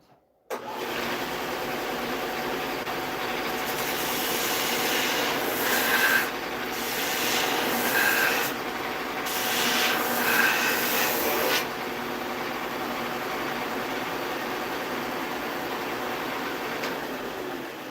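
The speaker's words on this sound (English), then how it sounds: "I want to take this over to the belt sander real quick" A belt sander grinds steadily against a redwood jewelry box for a glued crack, a loud continuous rasping hum that swells and eases as the piece is pressed and shifted, with no talking.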